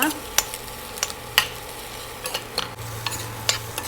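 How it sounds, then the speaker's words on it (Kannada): Onions fry in a pan under a low, steady sizzle, with sharp intermittent spatula scrapes and taps against the pan and no talking. "ಚೆನ್ನಾಗಿ ಇದನ್ನು ಫ್ರೈ ಮಾಡ್ಕೋಬೇಕು."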